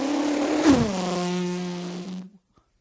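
A voice imitates a drag racing car engine, a buzzy revving drone that bends down in pitch and holds for about two seconds before cutting off, close and alone.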